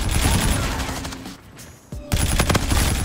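Gunfire in a shooting video game, dense rapid bursts of shots that drop out briefly mid-clip and then resume loudly, close and sharp.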